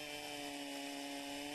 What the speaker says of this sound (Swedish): Här sågas en kort bit av rönn.